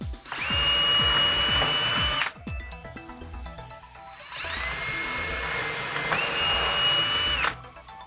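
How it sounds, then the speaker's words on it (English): A power drill whirs loudly in two long bursts while drilling holes in a model railroad layout, its pitch rising as it spins up, with a brief pause between them. "I'm gonna drill 2 more holes over here"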